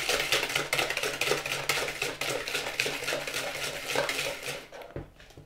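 Cookie dough being mixed in a bowl with a utensil, a steady run of scraping and clinking against the bowl that continues without pause, then stops abruptly near the end.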